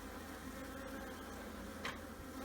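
Honeybees buzz steadily throughout a hive inspection as the colony grows excitable over a brood box packed with frames of brood, a dense continuous drone close by with no talking.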